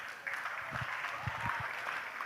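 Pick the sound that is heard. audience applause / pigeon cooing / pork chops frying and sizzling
audience applause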